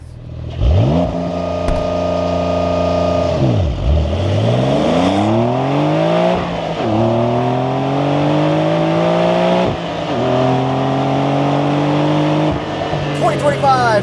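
A manual 2025 Porsche 911 992.2 Carrera T revs up through the gears while driving, loud engine pitch climbing repeatedly then dropping at each shift, heard from inside the car.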